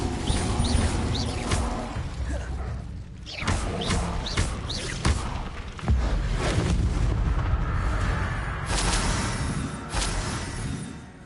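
Incendio fire spell cast in Hogwarts Legacy: loud roaring bursts of flame and booming impacts, dense and sustained, repeating over several seconds of intense spell combat.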